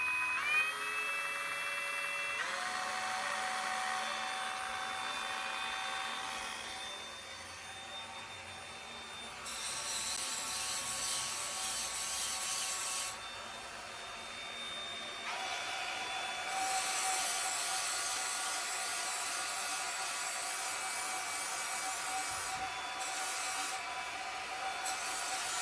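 Handheld variable-speed sander/polisher running steadily while polishing rocks for pendants, a continuous high motor whine with shifts in pitch and grinding texture as the stone is worked, loud and close with no talk.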